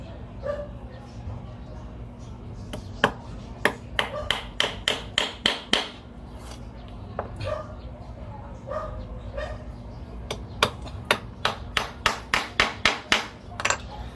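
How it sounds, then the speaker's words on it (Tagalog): Nails are hammered in to mark a line for aquatic plants: a long run of sharp, evenly paced hammer strikes comes in two close, loud bursts over a faint background hum. "Ito yung guhit, lagyan na natin ng pako."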